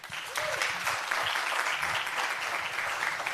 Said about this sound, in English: I want to give a round of applause to our three presidents here